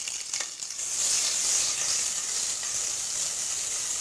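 Ginger-garlic paste fries in a pan for keema, a steady close sizzle with broad hiss that swells after the first second and then holds level, no voices.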